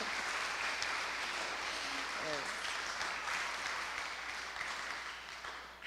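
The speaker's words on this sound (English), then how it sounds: "I want you to demonstrate your love through a hearty round of applause." Sustained applause from a school graduation ceremony crowd at a primary school on a Caribbean island, a dense, steady patter of clapping that fades slightly toward the end.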